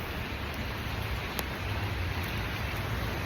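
Steady rain falls at an industrial plant site in Kerala, a constant soft hiss with no talk.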